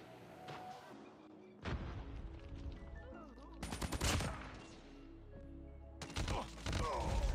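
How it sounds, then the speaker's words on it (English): Gunfire in Call of Duty Mobile arrives in several loud, close bursts of rapid shots separated by short quieter gaps, with booming impacts mixed in and a faint voice in between. "I just got shot in the back."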